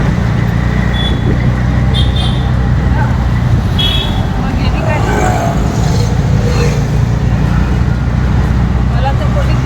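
An auto rickshaw carrying passengers on a road trip from Mumbai toward Lanja, its engine and road noise droning steadily and loudly throughout, with other traffic passing and voices talking faintly over the hum.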